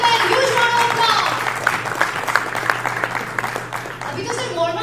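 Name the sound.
round of applause at a summit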